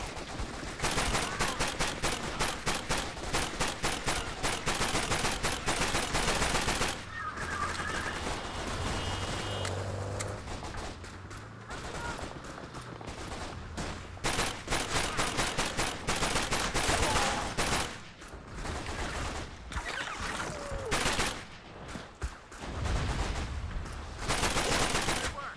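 Thompson submachine gun bursts in Call of Duty: Big Red One, a dense, loud stream of automatic fire with other gunfire layered in a wartime battle, nearly continuous with short pauses between rattling volleys.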